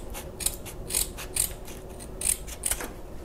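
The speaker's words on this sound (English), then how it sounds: "So I'm just going to cut a little piece of it off" Scissors snip through a piece of fabric-store belt material in about five crisp, close cuts spaced roughly half a second apart.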